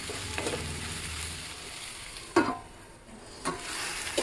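Brinjal fries with ginger garlic paste in a covered pan, a soft continuous sizzle broken by two short louder clatters.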